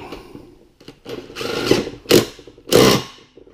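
A power tool runs in short bursts while bolts are torqued on a Toro Z4200 Timecutter zero-turn mower, with three loud pulses close by and a quieter whirring before them.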